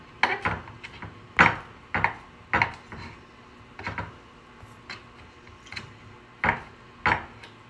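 A knife cuts cheese into small cubes on a board, giving sharp, irregular taps and chops that come close and clear with short pauses between them.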